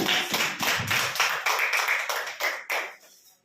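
A church congregation clapping hands in worship, a steady rhythmic series of about a dozen sharp claps at an even pace, close and clear, fading out at the end, no talking.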